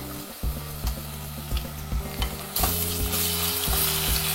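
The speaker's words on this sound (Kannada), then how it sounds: "ಶುಂಠಿ ಬೆಳ್ಳುಳ್ಳಿ ಪೇಸ್ಟ್ ಆಯಿಲಲ್ಲಿ ಚೆನ್ನಾಗಿ ಫ್ರೈ ಆಗಬೇಕು." Ginger garlic paste fries in hot oil for carrot rice, a close steady sizzle with rhythmic stirring clanks of a spoon against the pan, growing louder and brighter partway through, no voices.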